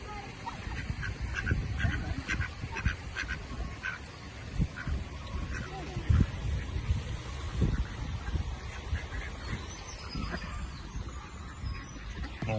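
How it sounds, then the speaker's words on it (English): Moorhens and their chicks call near water, a scatter of short quacky, honking notes mixed with faint voices, and a low roadworks rumble underneath. "Moorhen, baby moorhen."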